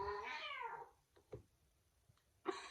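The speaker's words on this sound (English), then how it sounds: "Are my cats about to have a fight?" A cat lets out a loud, drawn-out meow that slides downward, then a few short, quieter sounds follow and a second cry rises at the end, as tension builds between cats about to fight.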